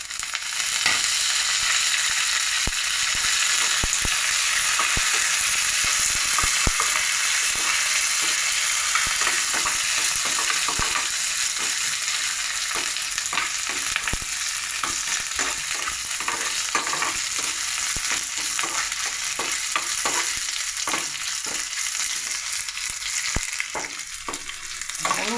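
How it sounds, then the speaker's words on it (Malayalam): Mustard seeds and curry leaves fry in hot oil, giving a loud, continuous close sizzle with dense popping and crackling all the way through. "അപ്പോൾ കടുക് വറുത്തെല്ലാം റെഡി ആയിട്ടുണ്ട്."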